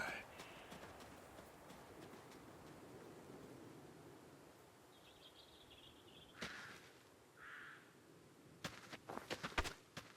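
Hooves clip-clop at a walk as a horse moves off in a video game, soft and steady in the distance over ambient game noise, followed by a few sharper clicks near the end.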